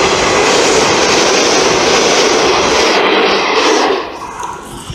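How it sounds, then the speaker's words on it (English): A train rushing past close to an apartment, a loud sustained roar of wheels and wind that fills the first four seconds before dropping away as the cars pass. "Oh, here comes a train."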